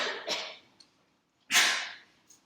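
A student sneezes in a classroom: a faint breathy lead-in, then one sharp, loud, close sneeze burst with a short trailing exhale.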